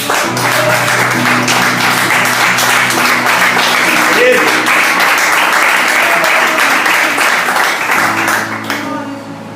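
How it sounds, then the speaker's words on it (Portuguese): A large church congregation applauds steadily and loudly, dense clapping sustained throughout with voices mixed in, tapering slightly at the end. "Pode aplaudir o Senhor."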